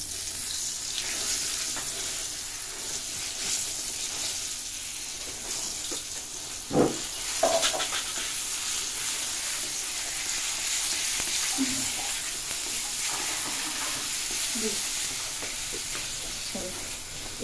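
Ground bitter gourd paste with shrimp frying in a pan: a steady close sizzle with a few sharp spatula knocks and stirring scrapes, occasional watery splutters, no talk.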